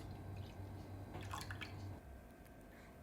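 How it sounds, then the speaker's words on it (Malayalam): Leftover milk poured into a bowl while making a carrot summer drink: a faint, soft liquid splash and trickle lasting a second or so, then quiet kitchen stillness. "ബാക്കിയുള്ള പാല് ഒരു പാത്രത്തിലേക്ക് ഒഴിച്ചു കൊടുക്കാം"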